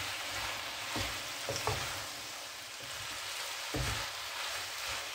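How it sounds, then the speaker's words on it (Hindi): Chicken and vegetable spring roll filling frying in a pan with vinegar added, a dense steady sizzle broken by a few stirring scrapes, close and without speech. "अब मैं इसमें शामिल करूंगी 1 चम्मच सिरका, 2 से 3 मिनट तक इसको हम फ्राई करेंगे।"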